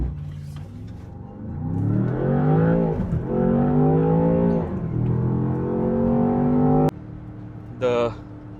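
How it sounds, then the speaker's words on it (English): A Land Rover Defender Octa engine rumbles and its exhaust swells as revs rise and the SUV pulls away, loud and close, with a sharp click and brief pause near the end. "So there it roars to life. The exhaust actually comes alive"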